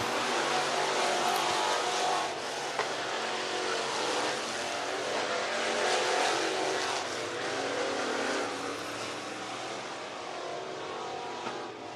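A race car laps a short oval at I-75 Raceway in Niota, Tennessee, during hot lap qualifying. Its engine roar drones steadily from a distance and swells slightly as the car comes around. No talk is heard.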